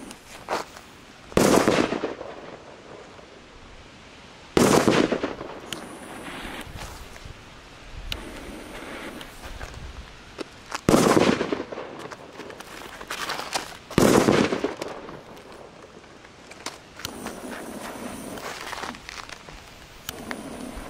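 Fireworks bought in Poland being set off outdoors, a series of sharp loud bangs and crackling bursts spaced several seconds apart, with rustling and outdoor ambience in between.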